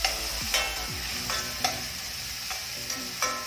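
Onions and garlic sizzling in a hot pan for a mushroom risotto, with a steady frying hiss broken by several sharp scrapes and clacks of stirring, close and fairly loud, with no voices.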